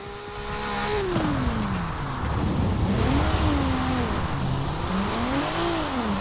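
A car engine in Forza Horizon 4 revs up and down through the gears, its pitch sweeping in repeated rising and falling arcs, loud and continuous with light background talk.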